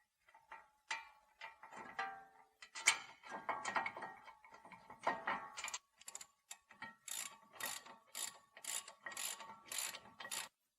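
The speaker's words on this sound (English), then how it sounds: "We're going to put the rotor retaining screw in." Threading in a rotor retaining screw on the front brakes of a Land Rover LR3: a run of irregular metallic ratchet clicks and tool taps, close by, first scattered and then settling into quick evenly spaced bursts, with no talking.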